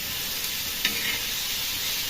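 Chopped tomato is tossed onto onions already sizzling in a hot pan for bombil chutney, giving a loud steady hiss with a brief stirring scrape and no talking.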